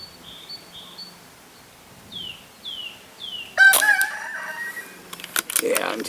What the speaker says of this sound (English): You guys will never realise how off-putting chickens are until you get on a farm